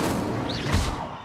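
Incendio fire spell cast in the Hogwarts Legacy video game, a dense crackling whoosh of flame that swells briefly and fades within about a second.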